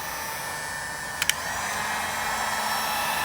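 A heat gun blows hot air to melt decal adhesive on a 1984 Challenger bass boat, giving a steady close whooshing hum with two brief clicks partway through.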